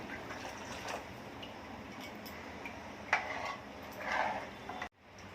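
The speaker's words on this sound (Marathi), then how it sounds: "उकळी येईपर्यंत आपल्याला हलवायचं आहे" Sweet tamarind kadhi is stirred in a pot with a spoon, giving faint soft scraping and light clinks against the metal over a steady low background hiss, close by and with no talk.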